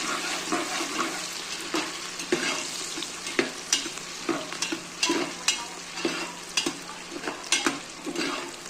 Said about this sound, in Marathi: असं परतून घ्यायचं।